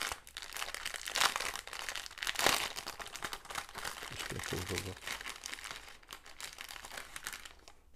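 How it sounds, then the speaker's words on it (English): Plastic packaging crinkles and rustles as a diamond painting kit is unbagged, irregular close crackling bursts throughout with a brief spoken remark over it. "I know it's really annoying listening to this rustling."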